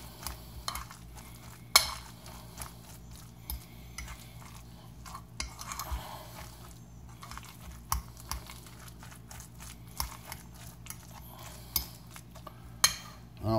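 A spoon stirs a cauliflower patty mix in a bowl, making a steady run of soft, close scraping and clicking sounds with occasional sharper taps against the bowl. No one speaks.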